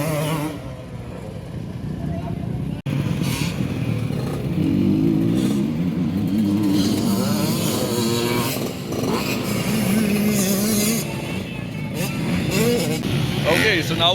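A motocross motorcycle revs through practice race starts, with a buzzing engine rising and falling in pitch across the whole stretch and a rider speaking over it.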